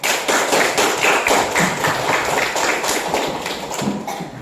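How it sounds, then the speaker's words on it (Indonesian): A classroom of students applauds together at the close of a lesson, a dense steady patter of many hands clapping fairly close, sustained evenly for several seconds with no talk over it. "kita berikan tepuk tangan untuk kita semua dulu"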